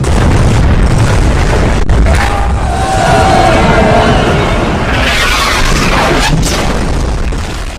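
A huge basilica cannon fires at the walls of Constantinople, a loud, booming blast followed by a long rumbling roar and crashing debris that fills the whole moment.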